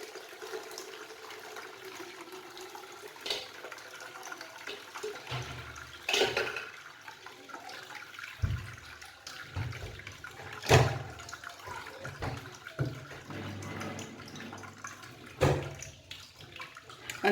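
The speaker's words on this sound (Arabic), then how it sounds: "غناخذ دابا واحد الصفاي وغنبدا كنكب باش يهبط ليا غير العصير" Lemon juice pours through a strainer, a soft continuous liquid trickle with occasional heavier splashes and clinks, quiet and close, with no voices.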